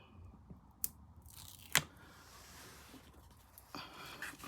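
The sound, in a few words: peeling red liner tape off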